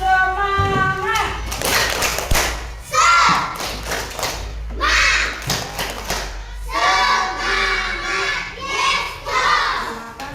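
Grade 2 schoolchildren in a classroom clap and chant the Indonesian 'tepuk semangat' routine together, with sharp bursts of unison claps mixed with lively shouted voices over roughly ten seconds.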